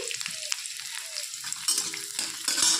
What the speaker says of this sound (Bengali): কালো জিরে দেওয়ার পর দিয়ে দিব রসুন কুচো।